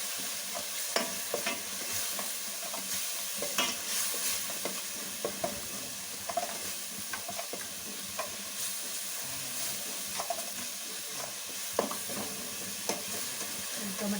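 Chili powder and coriander fry in a pan for Chettinad chicken gravy, giving a soft steady sizzle. A spoon scrapes and clicks against the pan at irregular moments, close by, with no talk.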